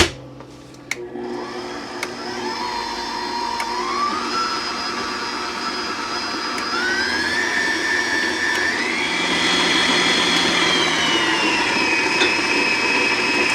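A stand mixer creams butter, sugar and eggs. Its motor whines loudly and continuously, and the pitch climbs in steps as the speed is raised. There are a couple of faint knocks at the start.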